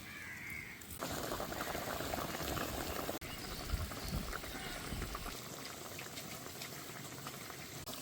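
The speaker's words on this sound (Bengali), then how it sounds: "মাছগুলো দিয়ে একটুখানি সেদ্ধ করে নেব" Hilsa fish simmering in a boiling cumin-paste gravy gives a steady close bubbling and seething that runs throughout, with a brief clatter near the start and no voices.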